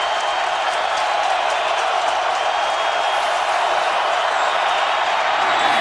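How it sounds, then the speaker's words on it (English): A steady stadium crowd roars and cheers for the Michigan State Spartans at a 2007 college football game against Michigan, a dense, even wash of distant voices with no breaks. "Crowd trying to warm it up for the Spartans."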